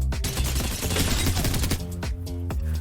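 The Havoc energy rifle in the shooter Apex Legends fires sustained fully automatic bursts, loud and close, with a short pause before more rapid shots.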